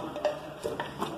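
A spoon stirs seasoning and colorau in a cooking pot for a rural-style chicken pirão, making a few light scraping taps against the metal at an irregular rhythm, close up and soft, with no talk.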